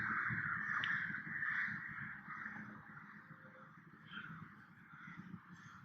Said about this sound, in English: these crows are gonna drive me insane